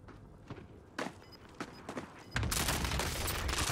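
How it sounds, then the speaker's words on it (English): Cluster strike explosions in Call of Duty Warzone: scattered thuds and cracks build into a loud, dense, continuous barrage of blasts that fills the final second and a half. "Allied cluster strike inbound"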